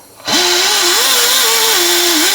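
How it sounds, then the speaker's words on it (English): A power sanding pad spins up abruptly and runs with a steady, loud whining hum, close by, grinding rust off a 1984-2001 Jeep Cherokee water pump inlet tube. "take my little sanding pad here and I'm going to just clean the surface up real good"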